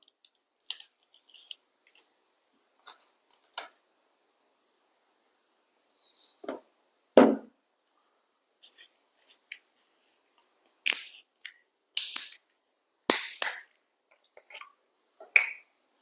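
The metal cap of an MGM Gova vodka bottle is twisted open, giving a run of sharp, sparse clicks and cracks with quiet gaps between them, close and crisp.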